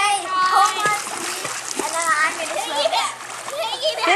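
A child kicks and splashes in water while paddling during a swim lesson, with busy, continuous splashing up close and a child's and an adult's voices talking over it.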